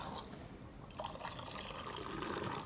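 A smoky Islay whisky poured from a vessel in an even stream, a faint, soft liquid trickle and splash heard close up and alone.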